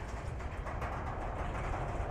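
An intermodal freight train rolls through downtown Altoona, Pennsylvania, a steady, loud rumble of rail cars with no pauses throughout, sounding close by.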